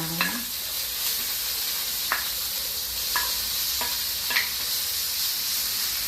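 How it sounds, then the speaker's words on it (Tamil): Green chili, ginger and mint frying in a pan for Indian gooseberry rice, a steady hiss of sizzling oil broken by several sharp scrapes and clacks of a stirring spoon. "பச்சை மிளகாய் துருவி இஞ்சி இதெல்லாம் ஒன்று ஒன்றா போய் போட்டு வறுத்து வச்சிடலாம்"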